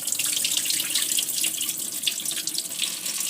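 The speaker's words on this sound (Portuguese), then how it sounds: "Aí você enxágua." Tap water runs steadily into a sink while sushi rice is rinsed, a close, continuous splashing rush with light sloshing on top.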